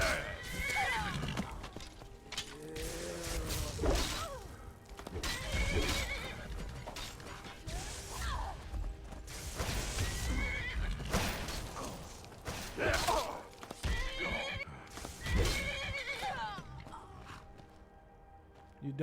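A horse in the Skyrim video game neighs and whinnies again and again while its hooves clop, with creaking mechanical sounds underneath, a dense, busy mix that stays loud throughout.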